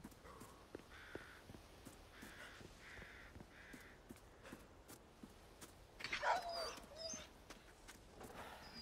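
A dog in the Resident Evil 4 Remake game whimpers amid quiet game ambience, with a series of faint whines and a louder whimpering burst near the end, with no talk over it.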